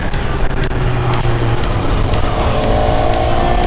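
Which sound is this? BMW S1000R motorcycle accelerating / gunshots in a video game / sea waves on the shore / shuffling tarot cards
BMW S1000R motorcycle accelerating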